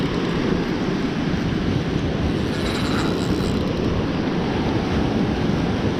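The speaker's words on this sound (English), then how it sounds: "Oh, big wave, big wave, big wave." A big ocean wave breaks on a Gulf beach at Fort Morgan, Alabama, a loud, steady roar of surf and wind buffeting the microphone throughout, close and unbroken, with no voices.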